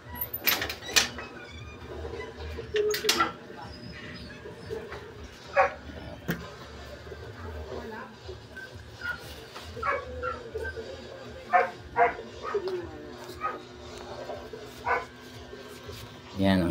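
A family's dogs barking, yipping and whimpering at home while being bathed, sharp irregular barks near and far, mixed with talking and household clatter.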